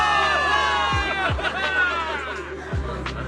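A crowd cheers a victory in the video game Zenless Zone Zero, with steady massed shouting and whoops over a continuous bed of sound, heard close and fairly loud.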